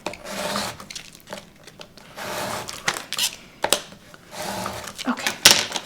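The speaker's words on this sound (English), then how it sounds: "burnish the back as well" Paper craft piece turned over and its back burnished by hand, producing soft intermittent rubbing and scraping strokes, close and moderately quiet, with brief pauses between passes.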